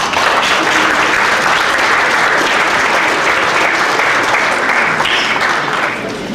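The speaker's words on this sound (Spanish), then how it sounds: "para quien pido un fuerte aplauso" Loud, dense applause from an audience at a law congress as a speaker is introduced, continuous clapping close by that holds steady and tapers slightly at the end.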